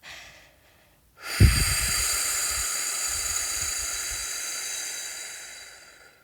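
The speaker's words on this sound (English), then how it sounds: "follow that with a long, slow exhale out of the mouth" A long, slow exhale through the mouth during prenatal yoga breathing for late pregnancy, a steady airy hiss that starts with a sharp onset and fades gradually over several seconds, close and alone.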